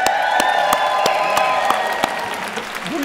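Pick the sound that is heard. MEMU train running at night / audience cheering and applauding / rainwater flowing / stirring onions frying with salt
audience cheering and applauding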